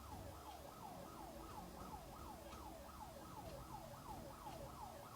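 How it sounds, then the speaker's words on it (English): An emergency siren wails in a fast, repeating up-and-down pattern, steady and somewhat distant over low background traffic rumble. "Sirens go off right when I said spiritual pain."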